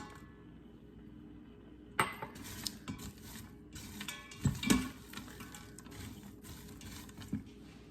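Chopped pepper and onion blend and celery tossed into a cooking pan, with a few clattering thumps and utensil clinks over low background hiss, close and moderately quiet.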